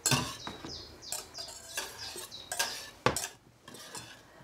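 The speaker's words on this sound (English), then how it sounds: "to prevent that from catching, you just want to stir it through" A whisk or spoon stirring custard in a pan on the hob, with repeated light metallic scrapes and clinks against the pan in an irregular rhythm, close and fairly quiet.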